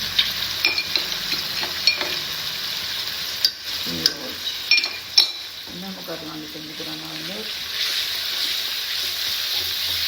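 Salt, turmeric, chilli and Schezwan chutney fry with a steady sizzle in a pan, with scraping spoon strokes and light taps, and a brief voice partway through.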